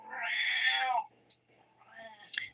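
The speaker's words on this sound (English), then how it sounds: "Why wouldn't my cat want to chime in?" A house cat meows twice up close: a long, loud drawn-out meow, then a shorter, softer one after a brief pause, with faint clicks in between.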